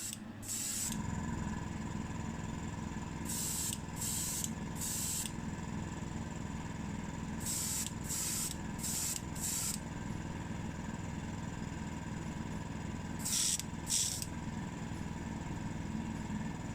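Airbrush spraying magenta candy paint onto a model Mini Cooper S body, repeated short bursts of airy hiss over a constant compressor hum, close by with no talking.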